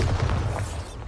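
Bombarda blasting spell in Hogwarts Legacy going off as a short, heavy low boom with a rumbling burst, loud and close, lasting about a second.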